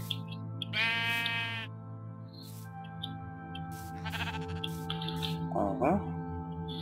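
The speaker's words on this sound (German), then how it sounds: "Grüß euch Schafe, wie geht's euch?" Minecraft sheep bleat a couple of times at close range, a wavering nasal call followed by scattered game sounds, all over a steady low ambient hum.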